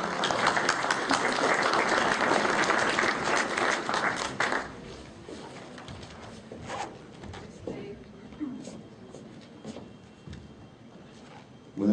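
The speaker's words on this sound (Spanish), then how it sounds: "Lo recibimos con un aplauso." Applause from attendees at a professional forum in Peru greeting a speaker, loud and full for about four seconds, then fading into sparse claps and shuffling room noise.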